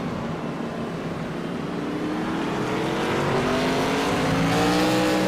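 A race car in the No Bull Racing Series works through the hairpin at Sonoma. The engine note is loud and continuous, and its pitch climbs steadily in the second half.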